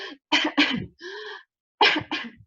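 A child coughs in short bursts, taking a wheezy, rasping breath between the close, loud coughs.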